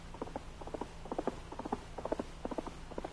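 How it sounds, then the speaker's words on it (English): A radio drama sound effect of Pony Express horses galloping along a trail at top speed, with quick, evenly spaced triple-beat hoof clops that are clear and moderately close. "the Pony Riders urged their fleet little horses along the trail at top speed"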